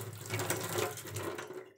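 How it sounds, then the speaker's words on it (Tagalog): Strong water gushing from a tap, a steady, close, loud rushing flow that runs continuously without any talking. "Kusog-kusog ng agas."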